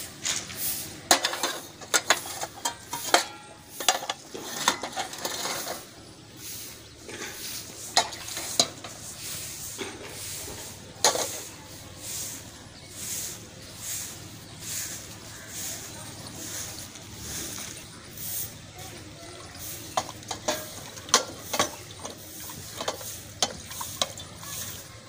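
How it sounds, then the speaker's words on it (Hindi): Dishes washed by hand with soap and water in a village home: a steady stream of close clinks, scrubbing scrapes and metallic knocks of utensils, irregular and continuous, with no talking. "तो मैंने सोचा कि मैं बर्तन धो लूं"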